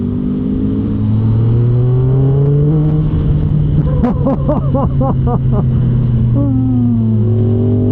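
A 2026 Triumph Speed Triple 1200 RX motorcycle is ridden on a group ride. Its engine drones loudly and steadily, with rising pitch and a burst of rapid revving in the middle, over constant wind rush.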